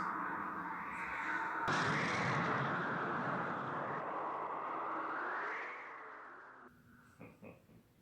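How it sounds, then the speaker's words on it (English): Explosions in the film Alien (1979): a long, loud rumbling roar of booming blasts fills most of the clip, then drops off into quieter scattered sounds near the end. "Lots of explosions."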